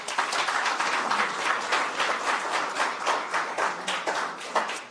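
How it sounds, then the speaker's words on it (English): Steady audience applause at an authors' forum, dense broadband clapping with individual claps audible throughout, continuous and fairly loud for the whole span with no voices on top. "Oh, can I give that a round of applause?"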